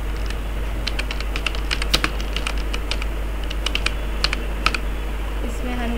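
Typing on a computer keyboard to enter headline text in Canva, with a steady stream of crisp keystrokes over a constant low hum, close and moderately loud.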